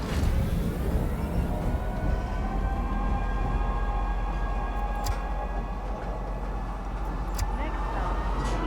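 Metro train moving through a city in the space game Star Citizen, giving a steady loud rumble with faint ticking and a few brief sharp clicks.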